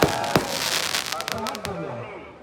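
Fireworks burst at the Dewa mela, a quick series of loud bangs and crackles that fade out.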